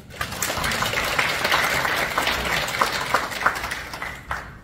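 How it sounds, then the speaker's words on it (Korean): An audience at a morning prayer breakfast gives a steady round of applause in thanks, loud and sustained, with no talking over it. "다시 한번 감사의 박수 부탁드립니다"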